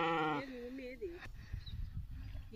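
Sheep on a farm bleat in a short, clear call at the start, followed by rustling, shuffling movement and background noise.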